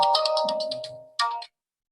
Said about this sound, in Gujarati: હાલો રોનુ ને ફોન કરવો જો